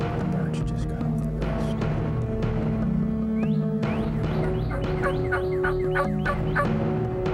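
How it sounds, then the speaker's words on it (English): Wild turkeys gobble repeatedly from the roost at dawn, several loud rattling calls at mid distance over steady background birdsong and hum, with bursts clustering toward the end. "I'm gonna go ahead and shut up now because they're really starting to gobble."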